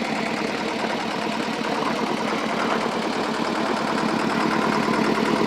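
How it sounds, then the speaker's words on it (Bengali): A heavy engine on a trawler boat heading through the Sundarbans toward Dublar Char runs in a steady, close, throbbing drone with a constant rapid pulse and no talk. "ইঞ্জিনটা একটু বড় হয়ে গেল না ট্রলার অনুযায়ী?"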